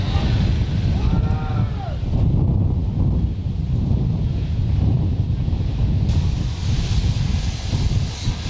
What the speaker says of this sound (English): Look at that wind, man.